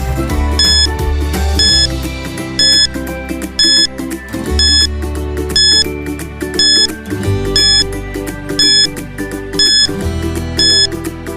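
A quiz countdown timer in a science lesson: loud electronic beeping and ticking in a steady repeating pattern over a looping synthesized tune, running for several seconds with no voice.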